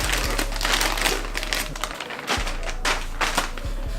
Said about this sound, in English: Supreme plastic bag as usual